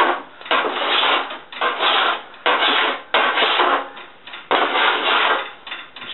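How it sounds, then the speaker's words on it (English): Body file drawn along the flange of the passenger rear fender on a 1970 Triumph TR6 during restoration, producing a series of close, loud, rasping strokes with short pauses between them. "So I'm just taking my body file and just running it kind of down."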